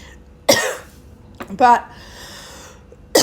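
A man coughs sharply, once near the start and again partway through, with a throat-clearing sound and brief talk in between.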